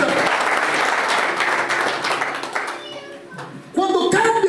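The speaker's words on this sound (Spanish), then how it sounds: "Dale un fuerte aplauso a Dios" Church congregation breaking into applause during a sermon, a short and loud burst of clapping that fades after about three seconds as a voice comes in.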